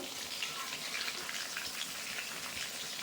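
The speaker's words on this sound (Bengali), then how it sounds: "এবার আমি উল্টে দেবো পকোড়াগুলো" Chicken pakoras sizzle steadily in hot oil after being turned, a dense continuous crackle and hiss with no talk over it.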